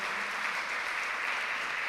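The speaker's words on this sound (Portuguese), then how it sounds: "Igreja, vamos aplaudir Jesus pelos nossos visitantes." A church congregation applauds during a morning celebration service, a steady wash of many hands, soft and somewhat distant, with no clear individual claps.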